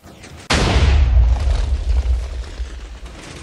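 A TNT cannon driven by a six-piston extender fires one sudden, loud explosive boom, then a deep rumble that slowly fades over a few seconds.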